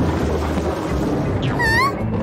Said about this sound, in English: A storm has woken up Penny.